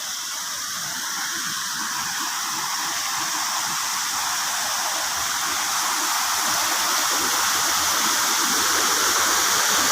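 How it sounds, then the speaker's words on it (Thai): A waterfall rushes continuously, a dense, steady hiss of falling water that swells slightly louder toward the end. "แต่น้ำตกก็ยังไหลอยู่นะครับ"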